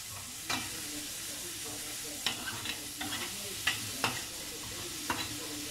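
Onion and garlic sauté in a pan for ginisang sayote, a soft steady sizzle punctuated by a few sharp spatula scrapes and taps, fairly quiet, no talking.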